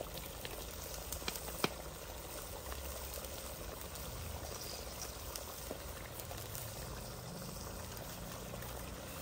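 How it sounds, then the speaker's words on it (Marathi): A spice masala of onion paste and spices bubbles in a pan for a red paneer curry, a soft, steady simmering burble close by with a single sharper pop early on. "बघा आपल्या मसाल्याला किती छानपैकी उकळी सुटली"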